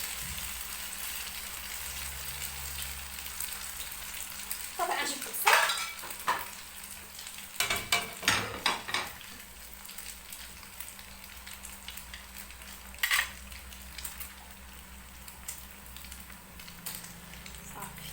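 Onions fry in a pan with a steady sizzle, broken by a cluster of scraping, clattering stirs midway and another sharp knock later, fairly close with no talk.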